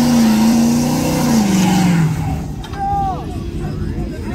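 A car engine fitted with a Vortex supercharger revs loud and close, holding a steady drone before its pitch sags and fades, with voices chattering nearby.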